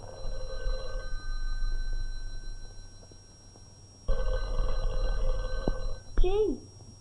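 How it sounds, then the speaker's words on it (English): An old landline telephone rings in a grandmother's house, two long buzzing ring bursts separated by a pause, fairly loud and close, with a voice briefly after the second ring. "Sure, that's Grandma's telephone ringing."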